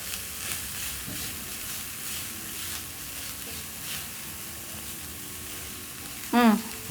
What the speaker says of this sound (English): So you're going to saute your garlic for 1 minute or until fragrant.